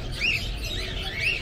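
Caged birds at a large market in Sudan give two short, high chirps about a second apart over a low background rumble.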